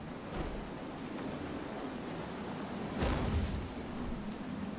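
A broad steady rushing roar from a waterfall in the video game FAR: Changing Tides, continuous and full with a brief swell near the end, with no voices.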